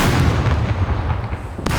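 Dense, continuous booming gunfire and blasts in the game SCUM fill the whole stretch, loud and close, with a sharp burst near the end.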